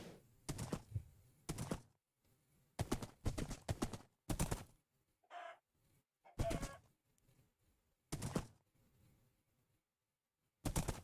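Horse hooves pound along in the Minecraft video game, heavy thudding clusters of steps in uneven bursts with brief pauses between them, close and fairly loud with no talking.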